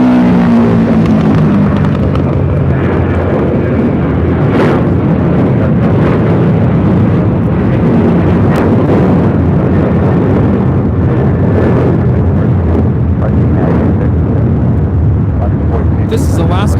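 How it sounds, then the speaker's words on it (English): An Alaska Airlines Boeing 737-900ER takes off at LAX, its jet engines producing a loud, sustained roar that builds up and then holds as a broad rumble. "This is Alaska Airlines 1418 taking off to Guadalajara on a 737-900ER."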